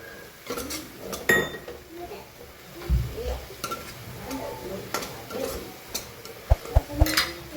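A spoon stirs a mix of green chili, garlic greens and ginger in a pan, heard as soft scraping and a few sharp metallic taps against the vessel, with faint sizzling underneath.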